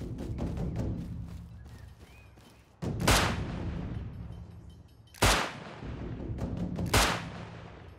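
Gunfire from the survival video game Rust rings out in three sharp, loud, booming shots spaced a couple of seconds apart, with rumbling game ambience and scattered smaller clicks between them.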